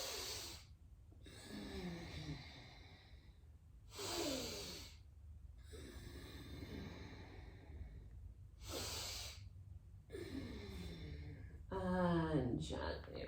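Slow, deep breathing held through a yoga locust pose, with three long audible inhale-and-exhale cycles close to the mic and quiet gaps between them.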